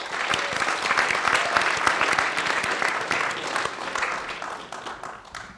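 Audience applause after a speech at Nichols College, a room full of hands clapping at a moderate distance, dense and even before tapering off toward the end.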